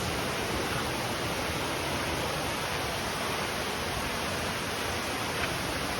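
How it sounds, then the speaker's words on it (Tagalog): Malicboy Falls pours in a constant, dense rush of white water, a loud unbroken hiss that holds steady throughout with no voices over it. "andito na tayo sa falls."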